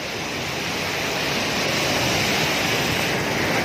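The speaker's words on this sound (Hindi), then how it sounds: "और ये है कुंडल वाटरफॉल जो मेरे पीछे आप देख रहे हैं।" Kundal waterfall in Kashmir pours in a continuous, even rush of water, a dense roaring hiss that holds steady without pauses and with no voices.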